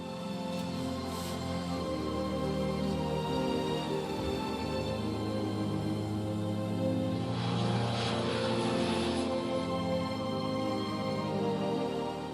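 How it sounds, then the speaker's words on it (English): A propeller airplane takes off from a beach runway in the Outer Hebrides, its engine droning loud and steady throughout with a rising roar as it gathers speed. "It's not every day you take off from a runway that's also a beach."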